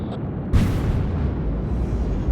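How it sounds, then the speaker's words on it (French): A sudden deep rumbling boom bursts in as rocket boosters separate in an explosion, sustaining as a heavy, roaring low-frequency blast that keeps rolling without fading. "Les boosters se sont séparés."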